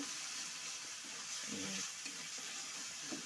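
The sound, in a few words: stirring green peas in a frying pan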